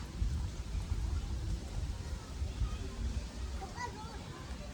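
Soft, steady patter of rain falling on the Girnar pilgrimage circuit, a diffuse wash of drops under a low rumble, continuous and fairly quiet throughout.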